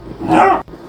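Basset Hound puppies at play let out a single loud, close bark, a short growly yelp lasting about a third of a second, followed by a brief silence.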